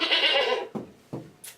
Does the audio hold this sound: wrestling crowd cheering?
no